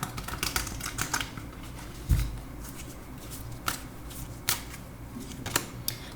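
Tarot cards are shuffled and drawn by hand, giving soft scattered flicks and riffling taps with a few sharper card snaps, close and quiet.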